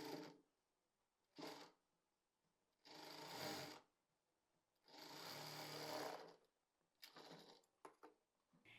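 A sewing machine runs in short bursts while stitching a point seam along the side panel of a Pakistani-style flapper pant, several separate runs of varying length with quiet gaps between.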